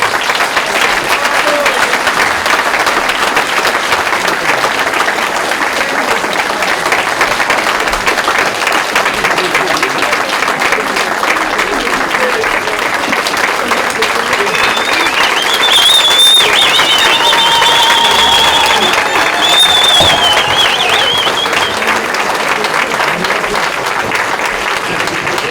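A congregation applauding at a church consecration ceremony in a hall, dense sustained clapping from a large crowd throughout, with a voice and some cheering faintly mixed in.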